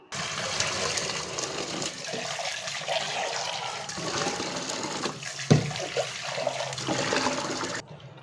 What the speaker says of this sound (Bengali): এটা খোসাটা সারানোর জন্য বেশি করে পানি দিয়ে দিলাম